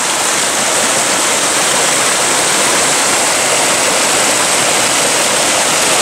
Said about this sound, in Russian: Какой красивый лесной ручей.